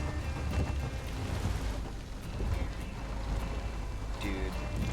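Rain falling on a car driven along a hiking trail, a dense, steady patter with low rumbling underneath, heard close and continuous.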